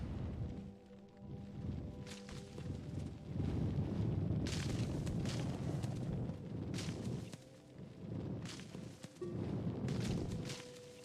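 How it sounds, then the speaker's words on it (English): Small plants in a video game's cavern burst in a run of deep, rumbling explosions, a dense roaring wash with repeated sharp blasts layered through it across several seconds. "I love how the little plants make the biggest explosions."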